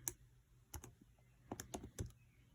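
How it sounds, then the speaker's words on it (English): Buttons pressed on a calculator while entering a cosine value, a handful of soft, close clicks in an uneven rhythm, several coming in quick succession, with no talking. "type in cos 64 to the calculator"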